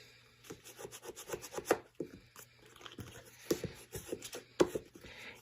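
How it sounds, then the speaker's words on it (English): Paper pieces stuck down with tape are rubbed firmly with a burnishing tool, giving repeated close scratchy rubbing strokes in uneven bursts with short pauses between them. "Make sure that you have burnished all of these pieces down."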